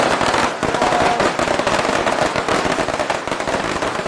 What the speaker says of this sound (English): So the firecracker's going to go now.